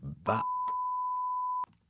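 A steady single-tone censor beep over a swear word runs for over a second, cutting in right after a short burst of speech and ending abruptly.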